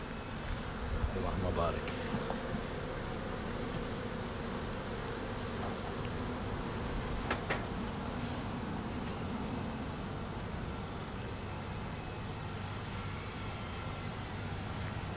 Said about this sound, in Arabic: شوف ورع النحل.